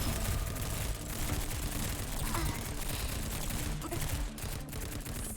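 Heavy automatic gunfire fills a combat engagement in The Division, continuous bursts and volleys at a loud, steady level from start to finish.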